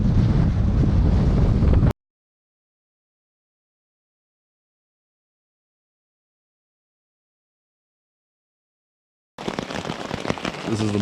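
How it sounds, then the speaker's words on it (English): Steady rain at Lance Creek campsite on the Appalachian Trail in the early morning makes a loud, dense hiss in two bursts, with a long stretch of silence between them. "It's been raining since about 1 a.m."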